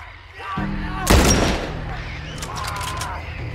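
Weapons fire in The Last of Us Part 1 on PC, with gunmen closing in on a house: one heavy, close shot cracks out over a low drone of game ambience and fainter noise.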